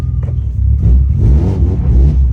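A BMW M3 engine idles and rumbles steadily up close as the car is shifted into gear, a low continuous throb with slight swells in loudness and no talking.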